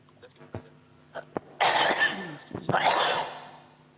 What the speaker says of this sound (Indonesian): Duh elah tuh orang batuk.